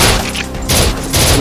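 Automatic weapon fire in the VR zombie game SURV1V3: loud, dense bursts of rapid shots, close up, with brief dips between volleys.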